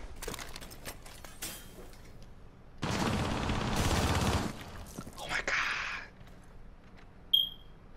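Shotgun fire in the tactical shooter Rainbow Six Siege: one loud, dense blast about a second and a half long, followed by a shorter burst and a sharp electronic beep, over quieter in-game noise.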